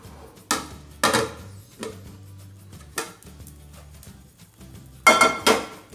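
Metal pan and utensil clinks while a Spanish omelette is flipped: several sharp, separate clanks spaced about a second apart, close and fairly loud, with quiet gaps between them.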